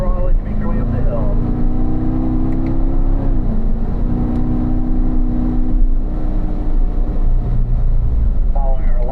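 A Corvette on the Spring Mountain race track accelerates hard, its engine note climbing in rising sweeps, easing, then revving up again, loud and close, with a voice talking over it.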